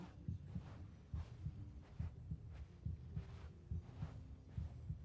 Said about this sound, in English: Why is there a heartbeat?